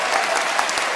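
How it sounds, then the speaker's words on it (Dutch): Theatre audience applauding during a live comedy show, a dense, steady wash of many hands clapping at close range for about a second with no break. "Mag ik even een applaus?"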